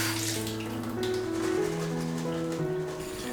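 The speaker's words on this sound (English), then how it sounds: "put 150 grams of the frozen peas in a sieve and run hot water over them to defrost" Hot tap water runs steadily over 150 grams of frozen peas in a sieve, a continuous close splashing rush with gentle pattering, no voices.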